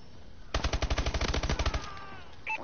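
Submachine gun fire in the video game Advanced Warfare: a rapid burst of about a dozen close, loud shots in steady rhythm lasting over a second, followed by a faint electronic tone.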